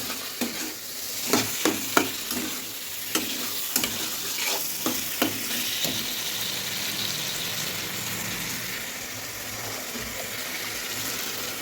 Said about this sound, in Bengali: মশলাটা কষানো হয়ে গেছে, এবার মাংসটা দিয়ে দিলাম।